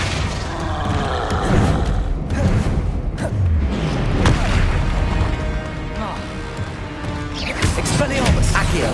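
A Flipendo spell blast cast in the video game Hogwarts Legacy, a loud booming burst thrown amid a busy, continuous wash of combat effects and noise.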